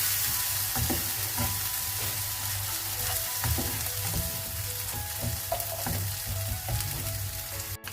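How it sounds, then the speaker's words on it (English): Green chili paste, known as kharda, sizzles and fries steadily in hot oil for Kolhapur-style mutton kharda, a dense continuous crackle with occasional stirring scrapes, close and fairly loud throughout. "Now I am going to add kharda or green chili paste into it."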